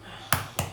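Two sharp close cracks of eggs tapped on a kitchen counter for gluten-free brownies, quick and separated by a short pause.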